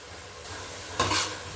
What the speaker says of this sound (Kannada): ಇದನ್ನು ಇವಾಗ ಸ್ವಲ್ಪ ಚೆನ್ನಾಗಿ ಫ್ರೈ ಮಾಡ್ಕೋಬೇಕು